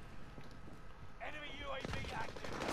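Gunfire from the Call of Duty: Modern Warfare video game crackles in a continuous burst of rapid shots, close and fairly loud, with voices talking over it partway through.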